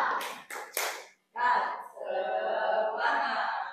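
A classroom of students does a rhythmic spirit clap: three quick sharp claps, then a brief pause and a burst of group chanting voices.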